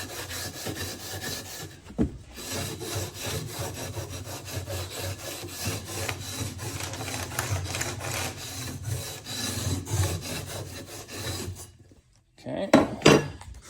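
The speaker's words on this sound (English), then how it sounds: "Let's go ahead and pull our Scotch-Brite pad." A Scotch-Brite pad scrubs rust off metal on a short bus, making rapid, rhythmic back-and-forth rasping strokes. The scrubbing is close and continuous, breaks briefly, then comes back in a short final burst.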